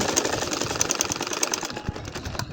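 A sewing machine stitches a nakshi kantha quilt, its needle hammering in a fast, even, continuous buzz close up throughout, with no talk.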